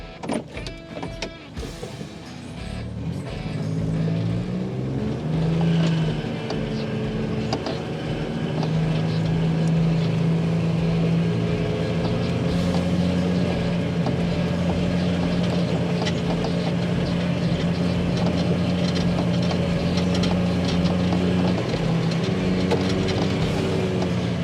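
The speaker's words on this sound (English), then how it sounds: "we're going to put the gator into gear and we're going to start driving our boundary" A John Deere Gator utility vehicle being put into gear and driven around a field boundary, its engine making a steady, loud drone with a low hum that holds nearly constant throughout.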